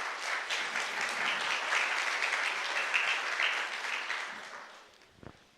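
An audience at a continental panel on gender and Pentecostal experience applauds to welcome a speaker, a fairly faint, steady patter of many hands that tapers off, followed by a single low thump.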